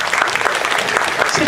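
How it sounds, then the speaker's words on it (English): Steady applause from an audience at a convention panel for a retro gaming event, filling the whole stretch as dense continuous clapping with no pauses, fairly loud and close. "It's such a pleasant clap."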